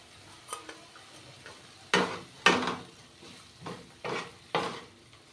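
Spices stir-fried in a pan for a Bengali ash gourd curry, with soaked raisins and fried rice added, giving a series of separate scraping, sizzling strokes, close and fairly loud, with no talk.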